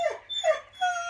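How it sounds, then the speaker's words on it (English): A dog whines close by in three drawn-out, pleading cries, each rising and falling, in a quiet indoor room during resin geode crafting. "Please excuse my dog Poppy."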